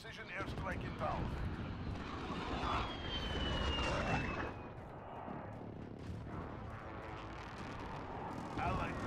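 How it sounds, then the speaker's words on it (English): Enemy precision airstrike in Call of Duty: Modern Warfare multiplayer, a jet roaring overhead with a descending whistle and dense rumbling gunfire-like impacts, sustained and loud throughout, with game voice callouts mixed in. "Enemy precision airstrike inbound."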